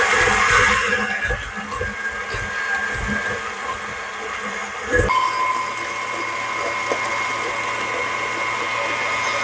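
An electric mixer whirs steadily as vanilla is blended into pistachio cranberry bread batter, a loud continuous mechanical drone that shifts pitch partway through.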